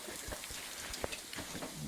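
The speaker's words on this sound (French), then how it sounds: "il pleut pas mal" Steady rain falls around climbers on a wet outing on the Isle of Skye, a soft broadband hiss with scattered drop impacts and a few brief knocks, fairly quiet and constant throughout with no talking.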